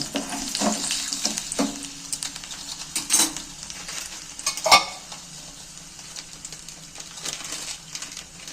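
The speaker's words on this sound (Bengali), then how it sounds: "রসুন কুচিগুলো তেলের মধ্যে তুলে দিচ্ছি" Chopped garlic and dried chillies fry in hot mustard oil, giving a steady close sizzle broken by sharp metallic clinks and scrapes of a utensil against the pan.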